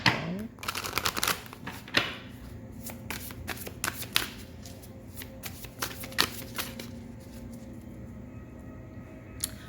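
Cards are shuffled close up, a rapid riffling burst followed by scattered flicks and taps of cards being handled.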